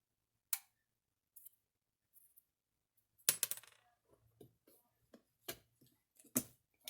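Old metal hog rings being pried off car upholstery: sparse sharp metallic clicks and snaps, first isolated, then a quicker cluster of ticks and small clatters, close by with no talking.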